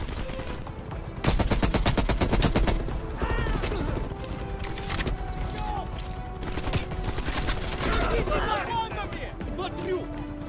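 Rapid automatic gunfire in Call of Duty Black Ops Cold War inside a Russian facility, dense loud bursts of shots with a quieter spell between, mixed with mechanical clatter and game voices talking over it.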